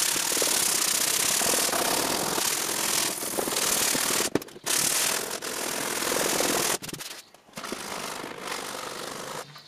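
Coarse-grit sanding of Bondo filler on Honda scooter bodywork, a loud continuous rasping buzz with brief pauses and restarts, no talking.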